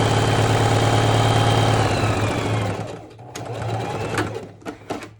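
A sewing machine stitches the seam of a cloth face mask, running steadily and loud for about three seconds with a slight reverse at the start, then stopping and giving way to quieter handling clicks and shuffles.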